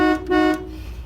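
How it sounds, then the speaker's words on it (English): Horn of a 1946 Dodge car with Fluid Drive, two short close toots in quick succession, the second slightly longer, with a loud buzzy tone and a quiet background. "Neat horn too."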